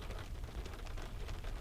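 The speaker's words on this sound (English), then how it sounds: "I think the rain's picking up. I love that sound when it really starts to pour." Heavy rain coming down harder, a dense roaring pour with low rumbling weight and uneven surges of drops.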